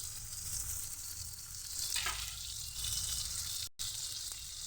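Vegetables fry in hot oil in a pan, a dense, steady sizzle holding at moderate loudness with a brief stir-like swell midway and a momentary cut near the end, no talking.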